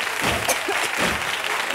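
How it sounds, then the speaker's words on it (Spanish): Audience at a copla singing competition on television gives a standing ovation, steady dense applause filling the hall at moderate loudness. "Aplauden satisfactoriamente tu actuación."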